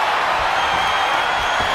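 Steady crowd roar and cheering from the WWE 2K23 wrestling game, a loud, continuous wash of arena noise with no break.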